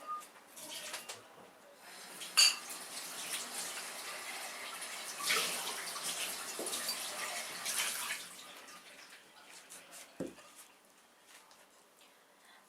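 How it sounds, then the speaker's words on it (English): Water splashes and trickles as it is poured out of a glass vase that held an orchid, in uneven bursts with quieter gaps between them. "So I will empty the water from here."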